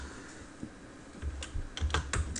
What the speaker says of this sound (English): clicking spacebar